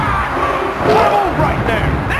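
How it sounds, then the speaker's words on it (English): A capacity crowd roars and cheers continuously at a wrestling event in the WWF Attitude video game, a dense, loud wash of arena noise. "listen to this capacity crowd"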